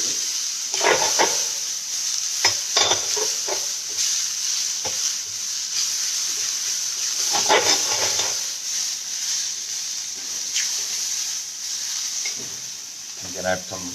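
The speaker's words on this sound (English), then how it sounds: "Just saute it a little bit." Cottage cheese mixture sautés in a hot pan, with a continuous sizzle and hiss broken by irregular scraping and stirring strokes close to the microphone.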